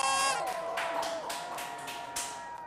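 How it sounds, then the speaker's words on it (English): Applause and clapping from a group of people on a live day-trading stream at the close of the NYSE and NASDAQ session, a steady broadband patter of claps that fades slightly over a few seconds, with faint tones in the background. "the claps are behind us"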